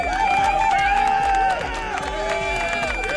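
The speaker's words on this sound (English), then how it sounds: "It's a long applause." A long applause sound effect fired from a streamer's soundboard while playing Hades 2, a dense crowd of clapping and cheering that runs steadily throughout, loud and continuous.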